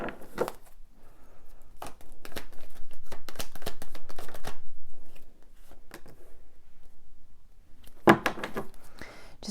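Tarot cards are shuffled by hand in repeated quick riffling and slapping bursts, a long steady run in the middle and sharper snaps at the start and end, close up with no talking.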